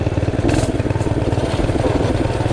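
A Tillotson 212R race engine runs steadily on a bike, a loud close-up throbbing putter with a fast even pulse and slight clatter, with no voices over it.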